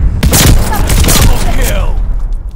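Loud stun grenade blast and gunfire in Call of Duty: Vanguard multiplayer hardpoint match on PS5, a dense burst of booms and shots lasting about two seconds with game noise throughout.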